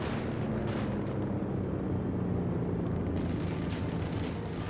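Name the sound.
conscripts firing rifles in the video game Company of Heroes 2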